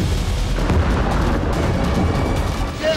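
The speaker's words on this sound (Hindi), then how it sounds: "दूसरा धमाका," A continuous deep, rumbling blast roar from an attack on Ramat David airbase in Israel fills the clip, dense low-frequency boom with scattered crackle, loud and sustained without a clear single onset.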